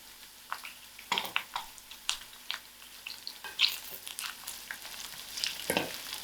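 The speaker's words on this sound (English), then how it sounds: "I'll allow this to fry." Garlic, two dry chillies and cumin seeds frying in a pan for a spinach and orange masoor dhal, with a steady close sizzle, scattered crackles and pops, and occasional stirring scrapes.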